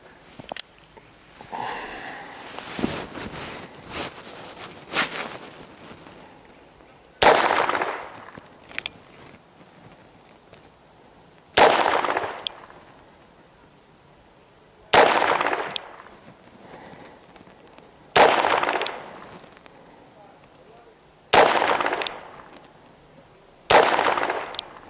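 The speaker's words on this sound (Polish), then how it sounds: "Broń jest z systemu double action, odciągniemy sobie kurek, żeby nam było wygodniej strzelać do pierwszego strzału." A .38 Special double-action revolver fires about seven sharp, loud shots at an outdoor range, spaced several seconds apart, each with a ringing decay, following a stretch of softer handling and clicking noises.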